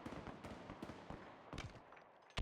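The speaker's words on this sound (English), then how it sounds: "These guys are shooting across the map." Gunfire in the video game Halo Infinite during a Fortress capture-the-flag match, a quick string of sharp shots and bursts, fairly faint and distant in the game mix.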